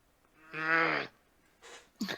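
A person makes a drawn-out, throaty imitation of a growl, close to the listener, followed by two short breathy bursts.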